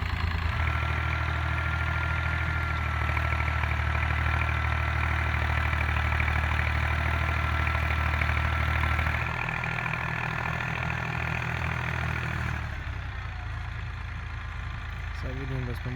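A Zetor 6341 tractor engine running steadily while ploughing in a muddy field, a loud continuous low drone heard from the cab that drops slightly in pitch and load near the end.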